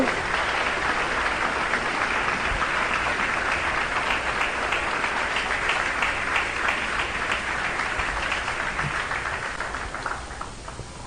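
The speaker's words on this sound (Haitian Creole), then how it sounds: "Alors, applaudis, conférencier." Sustained applause from an audience at a Christian church gathering, welcoming a speaker to the front; dense, steady clapping fills the whole stretch at even strength and fades slightly toward the end.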